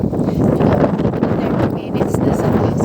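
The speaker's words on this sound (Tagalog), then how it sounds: "Ang lakas ng hangin." Strong wind buffets the microphone outdoors during a storm, a loud continuous rumbling roar with gusty surges.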